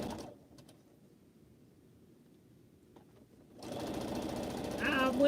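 A sewing machine stitches pineapple quilt blocks in teal fabric, starting after a quiet stretch of low room noise and running steadily and close for the last couple of seconds.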